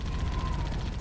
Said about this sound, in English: I can use the minigun indefinitely